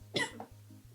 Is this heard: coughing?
yes